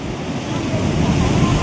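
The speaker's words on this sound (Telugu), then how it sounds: "అలలు వస్తున్నాయి." Water churns and surges at the Nagarjuna Sagar dam with its gates open, a loud, steady broadband roar mixed with wind buffeting the microphone.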